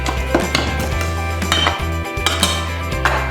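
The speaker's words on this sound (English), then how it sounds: "Using a butter knife, just cut the butter and lard into the flour until it's quite crumbly" A butter knife cuts butter and lard into flour in a bowl, making steady clinks and scrapes against the bowl with a low hum behind them.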